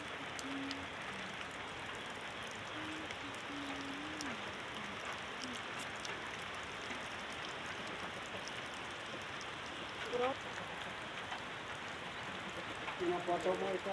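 Steady, dense rain pours down near the Cisuru dam in Bojongpicung, a continuous hiss with no breaks and a few faint background sounds near the end.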